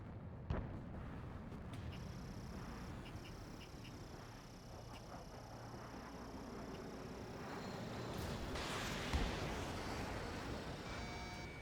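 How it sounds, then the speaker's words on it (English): A harbor under heavy bombardment in the combat flight game Ace Combat 7, with a continuous rumbling roar of explosions and artillery, a sharp blast near the start and a swelling surge toward the end. "The harbor is under heavy fire!"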